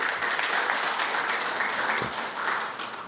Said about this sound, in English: give them a round of applause while they make their way to the stage